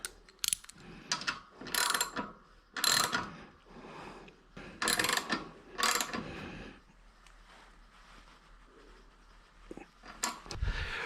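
Ratchet clicking in bursts while tightening hardware through shrunk-down tubing around a cable on a fiberglass bike fender, close and fairly loud, with pauses between strokes.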